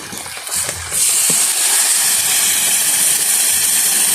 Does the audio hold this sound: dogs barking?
no